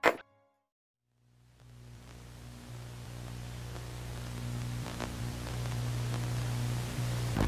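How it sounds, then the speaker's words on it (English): Static from an old television with no signal, a broadband hiss that swells in after a short silence and holds steady and loud, with a low hum band underneath. "old TVs, when they had no signal, they display a random pixel pattern of black and white and play this ear-grating static sound"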